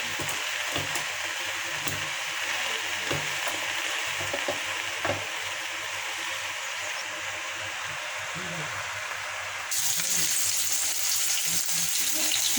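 Garlic, dried chili and chopped onion fry in hot oil with a steady hiss and occasional stirring scrapes, close by. The sizzle grows louder and brighter near the end, with faint low background sounds.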